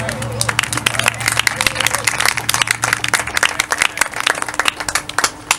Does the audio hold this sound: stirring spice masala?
no